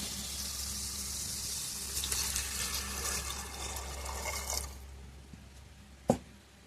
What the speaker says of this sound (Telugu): మొత్తం వాటర్ అయితే యాడ్ చేసేసాను